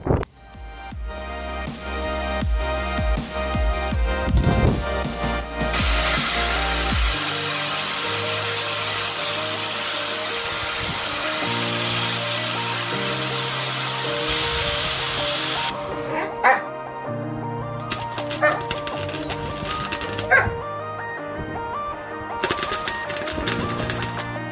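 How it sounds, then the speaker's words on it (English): Angle grinding and welding of a steel mount for a nitrous bottle in a workshop gives bursts of harsh broadband grinding and crackling weld noise, loud and close, with intermittent pauses. "we'll get to some angle grinding and some welding"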